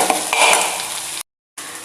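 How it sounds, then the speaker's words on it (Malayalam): Thin round brinjal slices coated in masala, salt and turmeric sizzle in a pan while being stirred. The frying is loud and close, and it breaks off briefly before resuming. "ഞാനിവിടെ പൊരിക്കുകയാണ് ചെയ്യുന്നത്"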